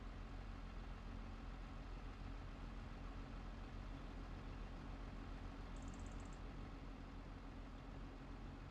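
Brand-new tractor idling in Farming Simulator 25, a steady low engine drone that stays faint and unchanging throughout, with a brief high chirp partway through.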